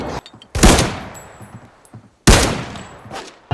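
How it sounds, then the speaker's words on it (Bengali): Gunfire in the mobile shooter game Arena Breakout, two loud, sharp, close shots each trailing into a decaying echo, about two seconds apart, with no talk over them. "এই তো হেডশট দিয়ে দিলাম"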